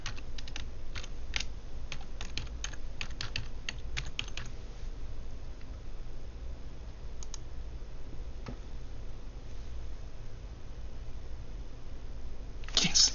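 Someone types on a computer keyboard with a quick burst of clicky keystrokes at first, then only a few scattered taps and a final cluster, all close and moderately loud.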